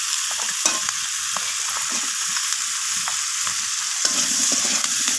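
Cut potatoes and kohlrabi fry with onions in a pan, giving a loud, constant hissing sizzle broken by soft stirring scrapes and taps. No voices.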